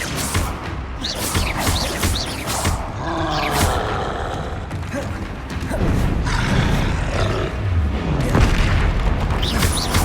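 In the Hogwarts Legacy video game, a Bombarda spell explodes amid combat, with loud booming blasts and rumbling impacts layered over dense game effects and brief vocal grunts.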